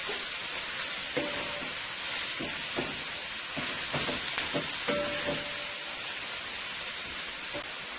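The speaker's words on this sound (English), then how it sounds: "You're going to let this saute for about 2 minutes." Mixed chicken and beef fried rice, Guyanese style, sautéing in a pan, with a steady broadband sizzle throughout and repeated scraping stir-and-toss strokes. It sounds close and continuous, with no talking.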